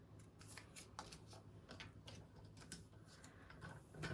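Scissors snip through fabric strips for a sewing project in a series of quiet, irregular cuts and rustles, close by and without talk.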